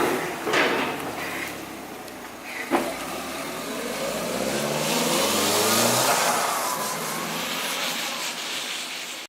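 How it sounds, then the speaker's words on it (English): A Japanese CA18 engine runs on a dyno, a few sharp blips leading into a long climbing rev that builds over several seconds, then winds down, with a clunk early on. "Got to see what a Japanese CA18 motor makes."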